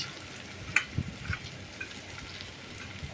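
Leftover rice tossed into a hot pan sizzles and fries softly, with a few sharp stirring clinks and scrapes early on, faint and close in a home kitchen.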